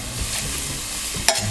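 Garlic sizzling lightly in a pan, a soft steady frying hiss with faint stirring scrapes and a brief clink near the end.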